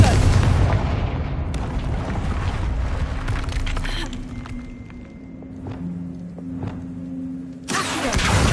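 A Confringo fire spell bursts in the Hogwarts Legacy game: a loud, sustained booming blast with low rumble, fading after several seconds before another sharp blast erupts at the end.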